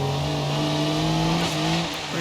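Widgeon off-road car with chunky off-road tires and dual exhaust in the BeamNG driving game, its engine holding a loud, steady drone close up with a slight swell in revs.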